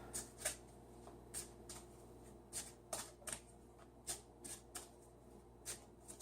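A fairly new deck of tarot cards being shuffled by hand, with a series of short, crisp riffling bursts at an irregular pace. The card sounds are close and clear over a low, steady room hum, with no talking.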